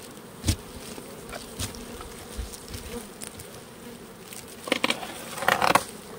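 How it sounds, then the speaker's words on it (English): A dense swarm of agitated honeybees buzzes continuously nearby, with occasional louder clicks and rustling bumps against the hum, no voices. "These bees are not happy."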